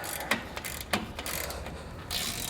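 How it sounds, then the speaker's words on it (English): A torque wrench tightens the bolts of a Demco tabless base plate on a 2021 Jeep Cherokee, giving a few sharp ratcheting clicks over a steady background hum. "So now we'll switch over to our torque wrench here, torque these down to spec"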